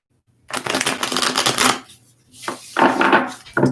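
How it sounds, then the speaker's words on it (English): Tarot cards shuffled by hand in two bursts, a long riffling rush followed by shorter crisp flutters, close and loud with no talking. "Just a couple more shuffles here."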